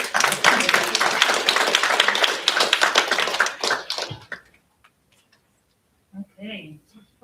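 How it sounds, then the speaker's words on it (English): An audience at a school board meeting claps together for about four seconds, a dense burst of hand claps that thins out and stops, followed by someone speaking. "We can clap for that."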